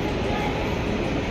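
A crowded local train in India rolls along with a loud, steady rumble and rattle of carriages, no breaks, with passenger chatter blended into the din.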